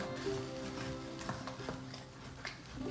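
Brown bits scraped up from the bottom of a zuppa soup pot with potatoes, a steady sizzle and rough scraping strokes close by, with no talking.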